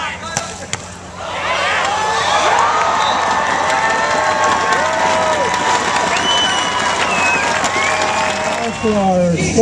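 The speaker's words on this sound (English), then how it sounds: "hell of a round of applause for that sports medicine staff" A large crowd at a men's beach volleyball final in Long Beach cheers and applauds loudly and steadily, with shouts and whistles. A brief quieter stretch comes at the start, and an announcer's voice rises over the applause near the end.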